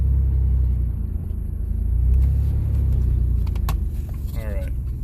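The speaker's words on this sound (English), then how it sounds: "I'm going to do a wide open throttle check here to get set up here." A 1995 Chevy Blazer with a 4.3L engine idles with a steady, deep rumble close by, with no clear revving, and a faint rattle like jangling keys near the end.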